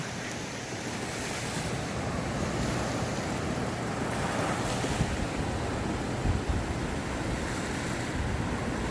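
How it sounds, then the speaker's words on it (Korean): Ocean surf washes onto Heungnam beach in winter in a steady, broad roar, with gusting wind buffeting the microphone. "파도 소리를 따라서 바다로 한번 가볼게요."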